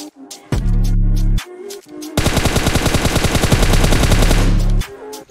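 Automatic gunfire sprays in rapid bursts in a mobile battle royale shooter: a short volley, a pause, then a long loud burst of dense shots, all close and without talk.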